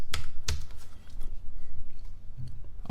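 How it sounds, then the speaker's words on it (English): Keys clack on a computer keyboard in a few quick, close taps, with a couple of sharper strikes among softer ones, heard alone with no talking. "Let's say I start typing in file cabinets."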